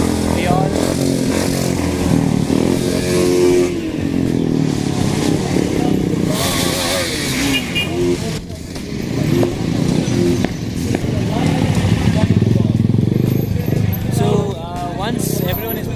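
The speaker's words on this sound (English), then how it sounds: "everyone are parking their bikes" Motorcycles being parked by riders arriving after a World Motorcycle Day group ride in Karnataka: engines idle and rev with clatter and scraping amid a busy crowd, with people talking throughout.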